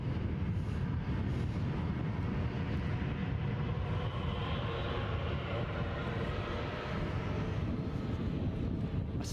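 A Ryanair airliner departing Edinburgh airport for Berlin, heard as a continuous broad jet roar with wind buffeting the microphone, steady and moderately distant for the whole stretch.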